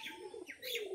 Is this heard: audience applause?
no